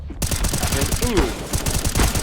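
Rapid bursts of gunfire in a Counter-Strike: Global Offensive match, loud, dense volleys of shots clustered together, with a caster's voice talking over the action.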